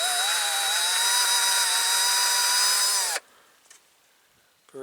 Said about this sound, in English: drill has seen better days.